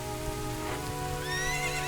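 Steady rain falls in The Legend of Zelda: Ocarina of Time, a constant wash of patter heard alone, with a horse's whinny rising faintly near the end.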